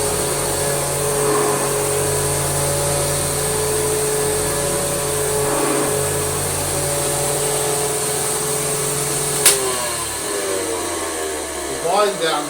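A Hoover 612 vacuum cleaner motor runs with a steady humming whine, then winds down slowly as its pitch and loudness fall away, with a few knocks near the end.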